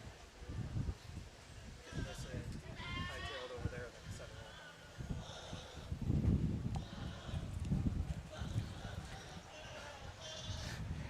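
Meat goats bleat at a 4H/FFA county fair goat show, with several wavering calls rising over steady crowd chatter and shuffling hoof and barn noise.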